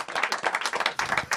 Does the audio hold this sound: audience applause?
yes